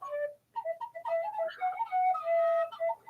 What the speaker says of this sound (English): I also have my tin whistle